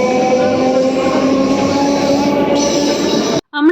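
A local train carrying passengers away from Belur Math, a loud steady rumble and rattle from inside the carriage that cuts out suddenly near the end, with a brief voice after it.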